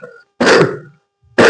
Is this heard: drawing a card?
no